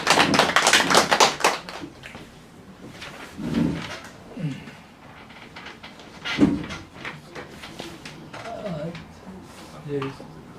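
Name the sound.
audience applause for a speaker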